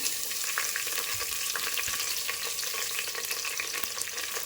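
Chopped medium-sized onions frying in hot oil with curry leaves for a jackfruit seed sambar, a steady bright sizzle with light stirring scrapes, close and continuous without any talk.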